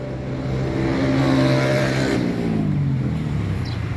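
A 2018 Kawasaki Ninja 650 fitted with a slip-on exhaust runs loud and close, its engine holding a steady rumbling drone with a slight rise and fall in pitch.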